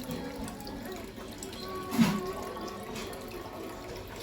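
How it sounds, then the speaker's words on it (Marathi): Water runs from a tap into a container during morning household chores, a soft steady trickle and splash with a brief louder gush midway, fairly faint and with no talk. "पाणी भरून घेते"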